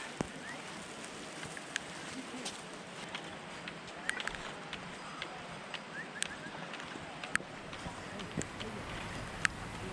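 Steady rain falls at Hemkund Sahib in Uttarakhand, a continuous soft hiss of drops with occasional sharper patters and drips, faint and even throughout, with no talk.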